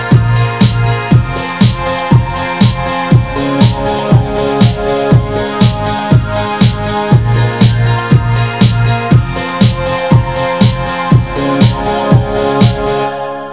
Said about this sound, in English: the end result of my beat sounds like this